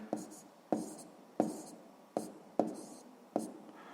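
Pen writing math answers on paper, six crisp strokes in an even rhythm, close and quiet.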